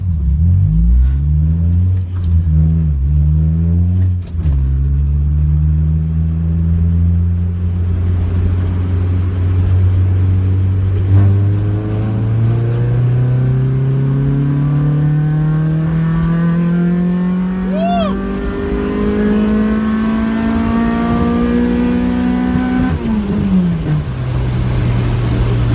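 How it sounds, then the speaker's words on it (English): A Honda-tuned V10 car on new tires pulls hard through third gear, its engine note rising steadily in pitch as it revs toward the top end, loud and close with no talking. "I'm gonna do my 3rd gear pull right now."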